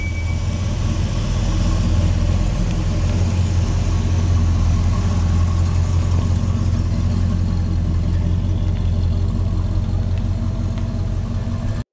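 A 1969 Buick Skylark Deluxe with a 5.7-litre V8 idles loud and close, a deep steady rumble that holds unbroken for twelve seconds with no voices.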